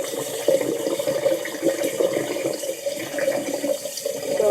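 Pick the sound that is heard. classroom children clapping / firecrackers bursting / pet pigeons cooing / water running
water running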